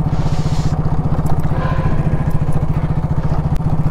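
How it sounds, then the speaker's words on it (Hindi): Construction work at a jungle picnic spot in Deodhar: a steady, loud engine drones throughout with rapid rhythmic clatter, like heavy machinery running close by, with no talk over it. "लेकिन यहाँ पे कंस्ट्रक्शन का काम चल रहा है"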